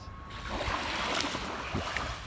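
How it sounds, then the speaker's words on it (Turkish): Seashore water murmuring and lapping on a cool morning, a soft continuous wash with faint splashes, fairly quiet and without talk. "Suyun şırıltısı harika."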